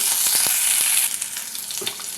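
Spices crackle and sizzle in hot oil, a dense hiss with sharp pops early on, with chopped green chillies and ginger, settling into a steadier, softer frying sizzle while making poha.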